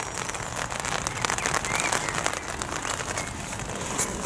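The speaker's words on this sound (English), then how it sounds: "I don't know how long this rain's going to last." Steady rain patters on a campground tent and surroundings, a dense continuous hiss with small crackling drops throughout, close and even in level with no voices.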